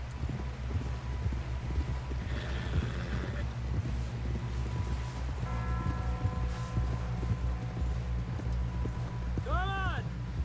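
Horse hooves clip-clop at a steady trot in Red Dead Redemption 2, moderately close, running under game music and character dialogue in a rural camp setting.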